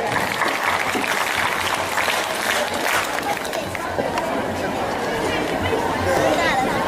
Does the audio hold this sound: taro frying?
no